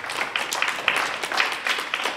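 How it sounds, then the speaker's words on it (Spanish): Audience applause for a magician's assistant at a children's magic show, a short burst of crowd clapping with crisp individual claps, fairly close and lively. "un aplauso muy fuerte para Bernie."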